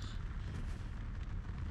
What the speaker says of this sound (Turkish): Oo, patlamalar başladı. Dalga dalga patlıyor ya